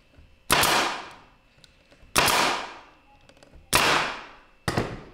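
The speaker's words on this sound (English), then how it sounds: "Then take your stapler again." A staple gun drives staples into a DIY wooden portable camping chair, four loud sharp shots spaced a second or more apart, each trailing off in a hissing release, close by with no talk.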